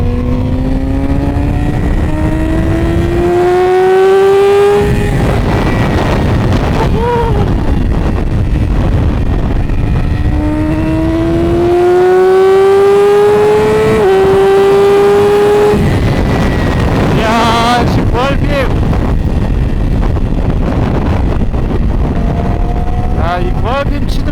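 A Yamaha R6 sport motorcycle engine revs hard while riding, its loud, close whine rising in pitch through several gear changes, with brief dips between shifts and steady wind rush behind it.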